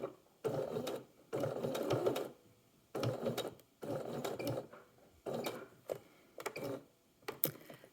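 Sewing machine running in short bursts while back-tacking along the edge of a hook-and-eye fastener, several quick start-stop runs of close, moderately loud stitching separated by brief pauses.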